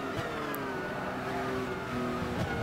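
Engine of a Nissan 92 CP race car in Gran Turismo 6 at Spa, a steady high-revving drone with the pitch slowly falling and rising as the car runs past, heard alone without talk.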